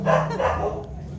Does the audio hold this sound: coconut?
no